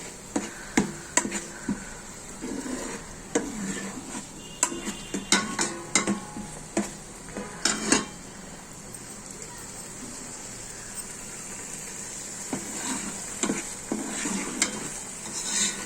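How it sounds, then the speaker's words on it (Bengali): Gourd and papaya peels with cumin and five-spice being stirred in hot oil inside a rice cooker, with repeated scraping and clinking of a utensil against the pot over a soft sizzle, close by. "লাউয়ের খোসা পেঁপের খোসা জিরা পাঁচফোড়ন সব গরম হয়ে গিয়েছে এগুলো এখন আমি নাড়াচাড়া করে নেব তেলের সাথে"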